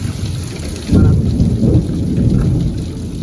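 Heavy rain hisses steadily while deep thunder rolls in and rumbles loudly for a couple of seconds, then eases back under the downpour.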